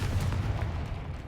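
A Confringo blasting spell goes off in a wizarding video game, a single dull booming blast with a low rumble that fades out over about a second.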